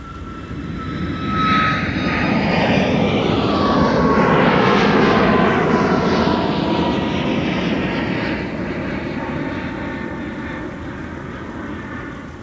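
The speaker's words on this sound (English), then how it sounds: "Yep, that Southwest was a departure to Nashville." A Southwest Airlines jet airliner departing Minneapolis–St. Paul airport for Nashville roars past, swelling to a loud peak near the middle and fading with a sweeping pitch shift as it climbs away.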